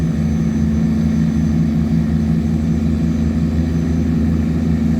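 Tugboat engine running steadily while towing upstream against the current, a loud continuous low droning hum with no breaks and no talk.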